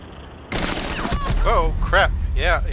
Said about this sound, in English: they're shooting through the bomb